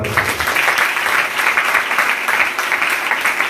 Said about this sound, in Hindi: जो ताली बजाओ